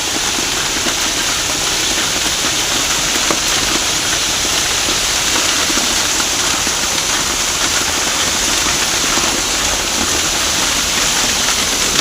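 Steady, loud wash of a hailstorm in Bangalore, ice and rain drumming continuously on roads and surfaces close by, unbroken for the whole stretch with no talk over it.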